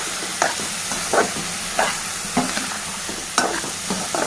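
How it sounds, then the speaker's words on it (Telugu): Fried rice with potato, garlic, peas, salt and turmeric sizzles in a pan, and a loud spatula scrapes through it in a regular rhythm of about six strokes. "ఇది బాగా కలపాలి"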